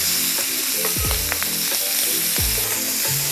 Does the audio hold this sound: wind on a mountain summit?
no